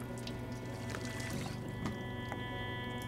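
Drinking from a water bottle in Project Zomboid, a short steady pouring and gulping of water over a constant background hum.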